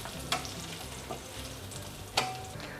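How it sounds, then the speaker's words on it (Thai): Aromatics stir-fry gently in a pan over low heat for chicken rice. A soft, constant sizzle runs under two or three sharper scrapes of a utensil, all faint and close. "ใช้ไฟอ่อนๆนะครับ ค่อย ๆ ผัดไปเรื่อยๆนะครับ"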